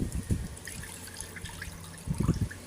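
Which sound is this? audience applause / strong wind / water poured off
water poured off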